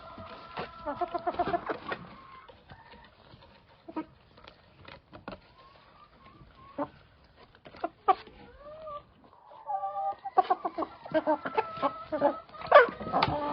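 Chickens and roosters cluck and squawk in bursts, with sharp calls scattered throughout and a busier flurry toward the end.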